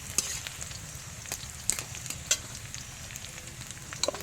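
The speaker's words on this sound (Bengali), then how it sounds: "কড়াই তেল দিয়ে নিয়েছি আজকে করবো ঠোঁট ডাল ঠোঁট ডালটা প্রথমে পেঁয়াজ লঙ্কা ভাজতে দিয়েছি" Onions and green chilies frying in oil in a wok, a steady soft sizzle with scattered sharper crackles and pops, close and alone with no talk.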